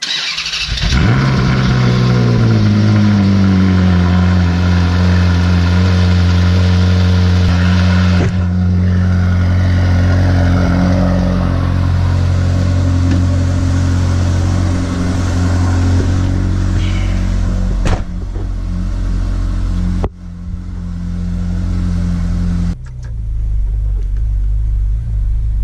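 A Jeep Wrangler cold-starting: a quick crank catches into a loud, steady idle with a deep low rumble that holds for many seconds, shifting slightly in tone near the end.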